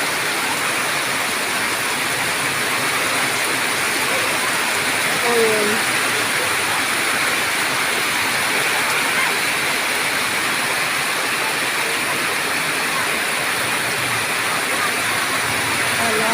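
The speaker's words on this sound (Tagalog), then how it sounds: "Lakas talaga ng ulan dito sa probinsya." Heavy rain pours steadily on a rural province with floodwater running, a dense continuous hiss filling the whole stretch, while a voice speaks briefly over it.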